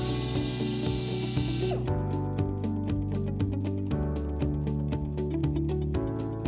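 A power drill with a 1/8-inch bit whirs loudly for a couple of seconds drilling a pilot hole, then gives way to a rhythmic, tapping mechanical pattern over a steady tonal hum.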